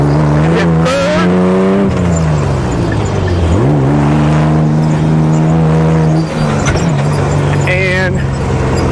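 A Subaru Baja driven hard on a bumpy race track gives a loud, close engine drone that rises and falls with gear changes and revs, with a brief tire squeal, and a voice talks over it.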